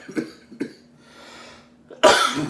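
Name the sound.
coughing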